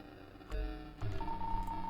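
A few soft electronic dialing tones and beeps sound as a phone number is entered in PS!Outertale, faint and brief over a low video-game background hum.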